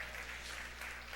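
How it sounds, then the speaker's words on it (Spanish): Audience applause at a faith-centered gathering about marriages, a steady wash of many hands clapping at moderate level throughout, with no voices standing out. "Miren, sí, un aplauso."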